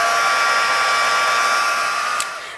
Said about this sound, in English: With your heat tool, I'm going to warm that up just a second beforehand